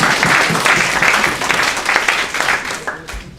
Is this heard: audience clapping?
yes